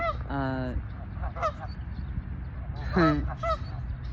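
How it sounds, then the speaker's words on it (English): A lone goose honks repeatedly from a distance over outdoor background noise, a few loud nasal calls in two short bursts. "Look at this lone goose all the way down there"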